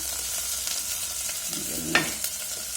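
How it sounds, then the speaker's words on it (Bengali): Chopped onion and green chillies sizzle steadily in hot oil for a dried-fish and aubergine dish, a soft, even frying hiss with a brief stir and clink partway through. "তারপরে এবারে পেঁয়াজ কুচি দিলাম"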